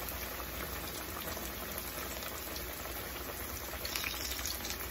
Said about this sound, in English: I think we are ready to fry